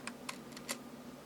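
A few quick keyboard keystrokes tapped on a computer while playing Blockbusters on the ZX Spectrum, faint and sparse, separated by short gaps over a quiet hum.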